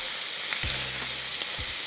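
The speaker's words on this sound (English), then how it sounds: "once our sausage is nice and brown, I'm coming in with the shallot or onion" Chopped shallot hits a hot pan with browned sausage and sizzles steadily, with a few brief stirring scrapes over the frying.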